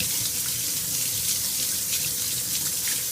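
A kitchen sink tap runs steadily as almonds are rinsed, giving a constant hissing, splashing water rush that fills the whole stretch without pause and with no talking.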